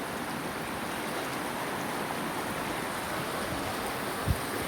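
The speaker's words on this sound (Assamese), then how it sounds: "ইমান ধাৰ বৈ আছে" Fast river water pours steadily by a sluice gate at a picnic spot, a dense, unbroken roar of current up close, with one brief low thump near the end.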